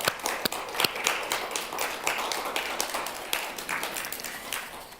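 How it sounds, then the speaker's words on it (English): An audience at a Sunday church service claps, a close, uneven patter of hands with a few sharp louder claps early on and then a steady spread of applause that fades slightly toward the end. "I know you're clapping for love, right?"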